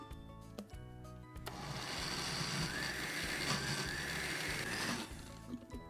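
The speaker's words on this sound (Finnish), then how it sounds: "Sienikuutiot blenderiin." A blender whirs for about three seconds, blending diced mushrooms with garlic and ready-made mayonnaise, starting and stopping abruptly with a faint, steady buzzing drone.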